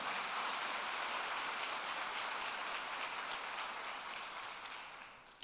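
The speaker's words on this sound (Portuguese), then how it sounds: "Pode dar um aplauso ao Senhor?" A church congregation at a 5 p.m. worship service claps together in a soft, even, rain-like patter heard from a distance, holding steady and then tapering near the end.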